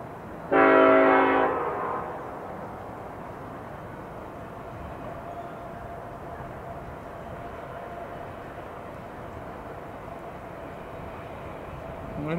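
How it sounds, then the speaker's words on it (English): A train horn sounds one loud blast at a railroad crossing, then the rumble of the passing train rolls on steadily for the rest of the stretch. "Everybody's trying to beat the train."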